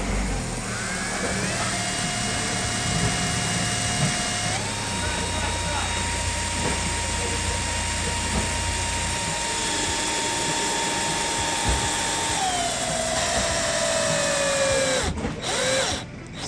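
Power tool driving a screw to set an umbrella-type wall anchor with a nut: a steady, loud motor whine that rises in pitch, holds, then winds down near the end, close by.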